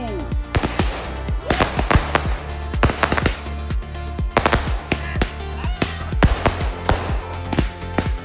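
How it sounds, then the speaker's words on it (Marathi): Firecrackers exploding at night at a Goa wedding, a dense rapid series of sharp cracks and bangs in irregular bursts, loud and close throughout. "सुमार सामके लायले बॉम्ब."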